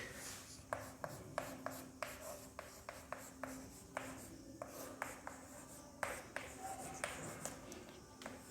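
Pen strokes scratch across a surface in a steady series of short taps and scrapes, close and fairly quiet, as notes are written out during a Class 11 chemistry lecture on basic concepts.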